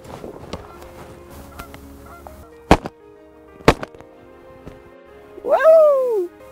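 A Canada goose gives a loud, close, drawn-out honking call near the end of a morning field hunt for big honkers, after two sharp shotgun blasts and a stretch of quiet rustling.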